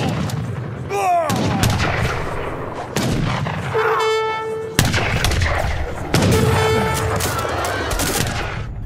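Musket volleys and cannon blasts from a battle in the PC strategy game Age of Empires 3, with infantry, cavalry and cannons; repeated loud gunfire bursts and booming artillery, with brief horn-like and bird-like game sounds in between.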